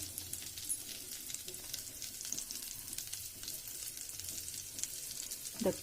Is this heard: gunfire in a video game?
no